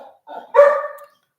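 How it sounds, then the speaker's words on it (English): A dog barks on a livestream, two quick barks, the second louder and longer, heard fairly close with nothing else around them. "Can y'all hear her dog?"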